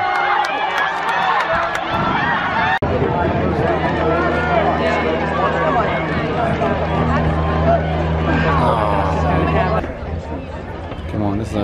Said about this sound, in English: You might hear some cheering in the background.